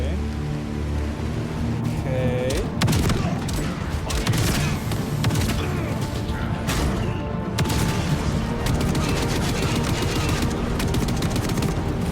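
Rapid gunfire from Cinder City gameplay rattles in dense, continuous bursts, loud and close, with booms and clatter layered through, and people talking over the action.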